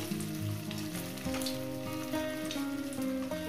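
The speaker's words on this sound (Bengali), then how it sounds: "এবার এক এক করে আমি পকোড়াগুলো ছাড়তে থাকবো।" Bombay duck (lote fish) pakoras dropped one by one into hot oil over a medium gas flame, giving a steady close sizzle and crackle that holds for the whole stretch with no talk.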